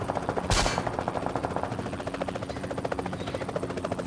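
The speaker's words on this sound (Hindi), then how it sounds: "रैंडम फायर कर रहा हूँ" Rapid automatic gunfire in the BGMI battle royale game, a loud burst near the start over a continuous buzzing helicopter rotor drone with pulsing rhythmic beats throughout.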